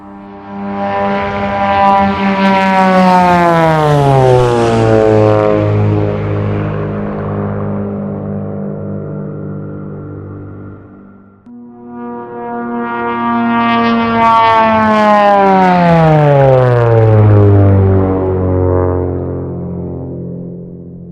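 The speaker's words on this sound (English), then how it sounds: "From the side especially, you will hear the prop buzzing loudly as it flies by you." A Beechcraft Duke twin-prop aircraft, the Black Square model in Microsoft Flight Simulator, makes two loud passes. Each brings a rich, buzzing propeller drone that swells, then slides down in pitch as it goes by, with a short dip between them.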